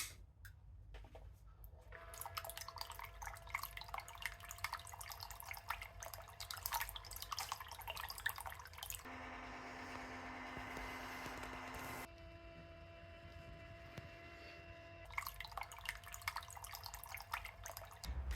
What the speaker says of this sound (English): if you do that with the new pump, it makes it even quieter, and now it sounds like this.